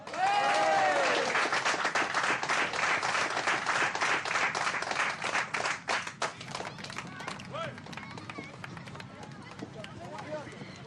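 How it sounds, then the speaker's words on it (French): An audience applauds loudly after a turntable set, dense clapping at first that thins and fades toward the end, with voices and cheers mixed in. "on applaudit très fort"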